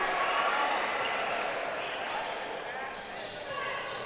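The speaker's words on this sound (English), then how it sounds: "There's a beautiful bounce pass." During a men's college basketball game against Mount Union, a bounce pass thumps off the hardwood court beneath a loud, continuous wash of crowd noise in the gym.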